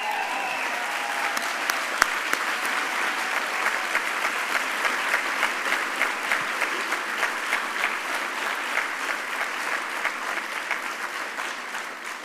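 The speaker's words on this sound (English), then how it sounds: "the School of Nursing always has the loudest cheering section" Applause from a staff assembly audience at Vanderbilt fills a hall as an award is presented to a School of Nursing team, a steady dense clapping that carries throughout and tapers slightly at the end.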